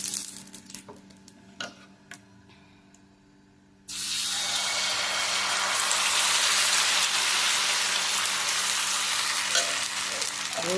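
Dosa batter hits hot oil on a pan after a few quiet clicks and knocks, bursting into a loud, steady frying hiss that continues close and unbroken for several seconds.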